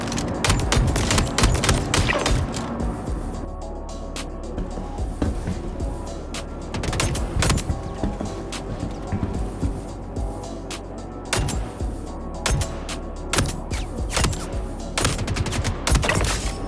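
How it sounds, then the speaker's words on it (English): Rapid bursts of P8-AR assault rifle fire from the video game Star Citizen crackle almost without a break, loud and close, with dense repeated shots and brief pauses between volleys. "But now, let's see how the P8-AR fares against the elite soldiers."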